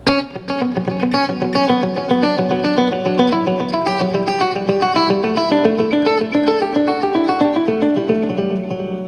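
Clean electric guitar plays flowing arpeggiated notes, each one echoing with repeating delay trails that blur into a shimmering wash.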